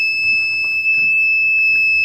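Kit-built metal detector alarm sounding over metal: a loud, steady high-pitched electronic whine holding continuously, with faint handling noise underneath.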